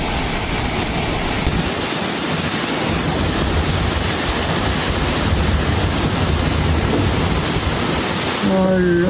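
Heavy tropical-storm rain from Tropical Storm Lala pours steadily in Hawaii, a dense continuous roar close by, with a brief tonal sound near the end; no clear thunder stands out.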